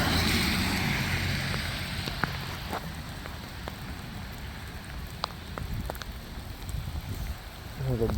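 Heavy rain patters steadily on a hydrophobic screen, a dense hiss of drops with occasional sharper taps and clicks standing out, continuous across the whole stretch with no talk.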